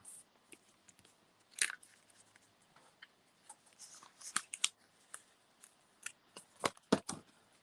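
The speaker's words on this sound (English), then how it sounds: "And what I will do is trim that edge off." Scissors trimming the edge of a handmade card, heard as a scattered series of short, crisp snips and small paper rustles, close but quiet, with no speech.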